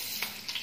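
Banana pieces frying in hot oil for a banana and wheat gulab jamun, a soft steady sizzle with a couple of brief stirring bursts, close and fairly quiet.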